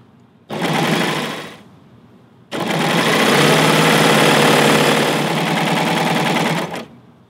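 A serger overlocks along the edge of a sheer scarf fabric, with a short loud run of stitching, a brief pause, then a longer steady whirring run of about four seconds that stops cleanly.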